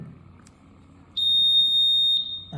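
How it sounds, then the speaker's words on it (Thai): A piercing electronic alarm tone from a MiniRAE 3000+ portable VOC gas detector sounds once and holds for about a second over quiet background noise. "ตอนนี้อะลาม เนี่ย ยังใช้งานได้ปกติหรือเปล่า"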